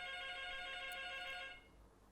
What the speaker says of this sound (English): there's a phone call, just again.